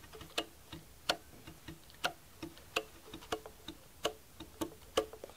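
Muted guitar strings strummed as percussion in a finger-picked rhythm guitar part, producing a steady series of dry, clicky percussive hits alone and fairly quiet.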